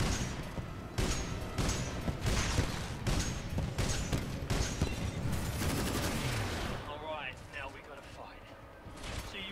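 A machine gun in Titanfall 2 fires in long rapid bursts for several seconds before tapering into rumbling aftermath and mechanical noise, with game dialogue spoken over the shooting.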